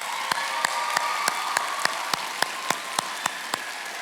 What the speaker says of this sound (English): let's give them a well-deserved round of applause